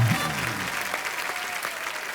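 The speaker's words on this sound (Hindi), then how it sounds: "जोरदार तालियां पंकज भाई के लिए" Studio audience applause on a Hindi comedy talk show, a steady dense wash of clapping that fills the moment without a break, with a brief low sound at the very start.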